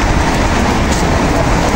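Steady rain falling on a city street beside shops, a dense continuous hiss of drops close by with no voices, constant and fairly loud throughout the short stretch.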